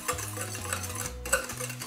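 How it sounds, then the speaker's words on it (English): Keto bacon cure ingredients, including sugar-free maple syrup and celery seed, whisked together in a bowl, giving a quick run of close rhythmic clinking and scraping strokes with no voices. "So let's start off by whisking our ingredients together."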